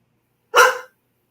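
A single short bark from a pet dog, sharp and fairly loud, rising out of otherwise silent background.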